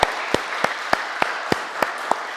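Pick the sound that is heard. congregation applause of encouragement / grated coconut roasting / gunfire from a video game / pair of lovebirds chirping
congregation applause of encouragement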